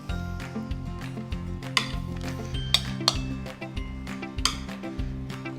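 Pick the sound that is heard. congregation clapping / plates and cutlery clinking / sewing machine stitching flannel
plates and cutlery clinking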